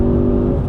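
A 2-litre EcoBoost petrol engine in a Ford Focus ST gives a steady, loud hum with a strong fixed engine tone that holds through a brief moment, with no talk over it.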